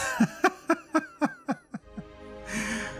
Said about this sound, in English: The woman gives a series of sputtering, rattling coughs.